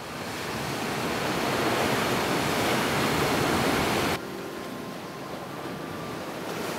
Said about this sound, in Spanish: Aquí se recibe el fuerte impacto de las olas